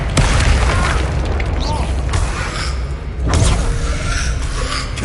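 Confringo blasting curses from Hogwarts Legacy go off in a loud, close string of three heavy booms amid the clatter of a spell duel, with a voice faintly in the mix.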